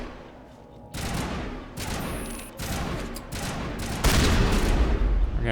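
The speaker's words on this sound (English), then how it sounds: "Yeah, that's shotgun." Repeated heavy blasts from a shotgun in the video game Mass Effect: Legendary Edition, loud and close, coming in several bursts with rising intensity toward the end.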